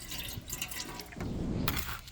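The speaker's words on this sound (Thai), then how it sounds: "นี่เจ้าเทน้ำเปล่าลงมาในหม้อเลย" Plain water poured into a cooking pot while making a catfish dish, a close, continuous splashing pour that grows fuller and louder partway through, with no talking.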